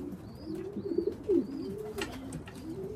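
Pigeons coo repeatedly at a loft, a few low rolling calls close by, with faint higher chirps from other birds in the background and no talking.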